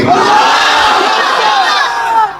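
A large crowd at a religious gathering shouts the takbir, Allahu Akbar, together in unison, a loud, sustained massed roar of many voices that rises, holds and then drops away at the end.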